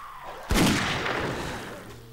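A single loud gunshot from a firearm in the 7 Days to Die survival game, fired at a zombie, bursts out sharply and then trails into a long reverberant decay.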